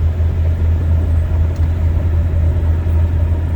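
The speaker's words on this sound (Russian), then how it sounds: "Сейчас у нас цепи, это как щебенка" Inside the cab of a Volvo FH 540 6x2 truck climbing a mountain pass on snow chains, a loud steady low engine drone and rumble with gritty road noise and no talk.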